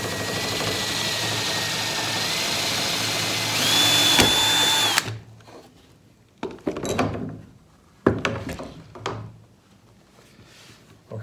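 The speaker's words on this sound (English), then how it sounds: "I'm gonna drill a hole here so I have full access" Power drill boring a hole through a worktable sawmill part: a loud, steady whine for about five seconds with pitch shifts, then a few short bursts of drilling and handling clatter.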